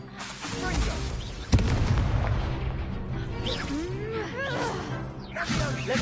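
Confringo spell explosion in the Hogwarts Legacy video game on PS5, a sharp burst amid a dense, continuous mix of game combat effects, whooshes and spell sounds, with a voice shouting spell names over it.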